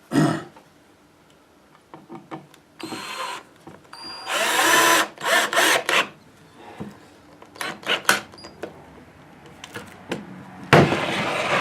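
A power drill drives galvanized screws into a wooden planter in a run of short, loud whirring bursts with pauses between them, each ending as a screw seats, plus some handling clatter.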